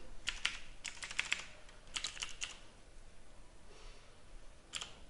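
A computer keyboard clatters in quick close bursts as code is typed, with short pauses between the runs of keystrokes.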